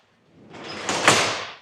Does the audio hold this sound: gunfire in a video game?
no